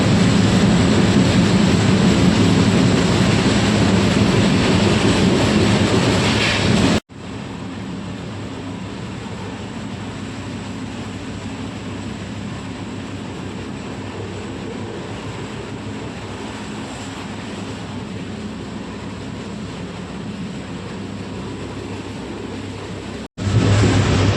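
Inside a cabin of the Deccan Queen passenger train bound for Mumbai, a steady loud rumble of the moving train fills the scene, with a brief cut partway through and no talk.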